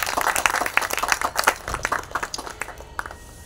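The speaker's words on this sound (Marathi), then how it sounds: "जोरदार टाळ्या" An audience claps at a stage event honouring a Marathi musician, a dense burst of many hands that thins out and fades over a few seconds.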